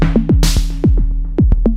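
Drum machine hand clap sample in a drum-design production session, several sharp dry clap hits in an uneven pattern over a steady low synth tone, loud and close with no voices.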